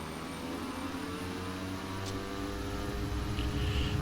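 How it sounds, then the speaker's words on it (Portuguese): A Let L410 twin-turboprop in a flight simulator game roars at takeoff power on a very short runway at a Czech airport, a steady engine drone with tonal hum lines that swells slightly toward the end. "Nós estamos a descolar aqui de um aeroporto na República Checa, que tem uma pista extremamente pequena"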